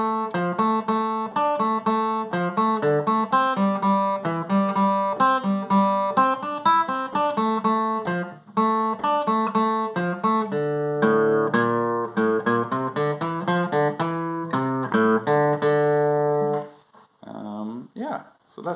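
On guitar, the B section of the reel Tam Lin plays as a brisk, continuous run of clear plucked notes for most of the passage, ending with a brief spoken voice.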